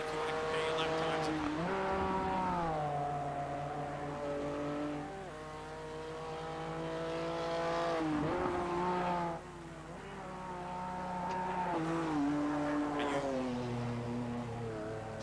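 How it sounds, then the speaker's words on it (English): A number 3 BMW CS racing car in an esports racing game's qualifying session: its engine repeatedly revs up and drops back through gear shifts, with a brief skid, heard under ongoing commentary. "So we switch our eyes on Callum Newton in the number 3 BMW CS racing car."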